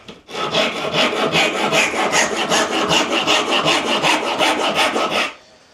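A hand saw cuts the shoulders of wooden dovetails in steady, rhythmic strokes, about four per second, loud and close with no talk, ending abruptly.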